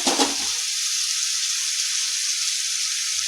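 Onion masala with turmeric and Kashmiri red chilli powder sizzles in a pan as a little water goes in, a brief splash and then a steady close hiss with no one speaking.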